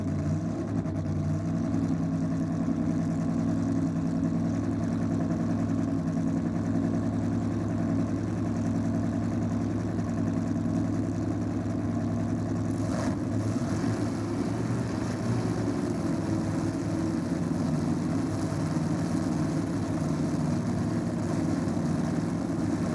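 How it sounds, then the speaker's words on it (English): Methanol-fueled small block Ford and supercharged Hemi drag cars idling at a drag strip, a steady low rumbling drone that stays fairly distant and even, with a brief change in texture partway through and no talking. "that is the sound of a methanol-fueled small block Ford and a methanol-fueled supercharged Hemi"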